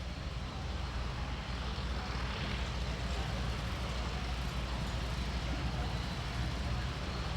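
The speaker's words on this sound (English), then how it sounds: "The two aircraft used in this display are 1940s Boeing Stearman biplanes." Two 1940s Boeing Stearman biplanes flying at an airshow wing-walking display produce a steady, distant radial engine drone. The drone holds at an even level from start to end under a low rumble.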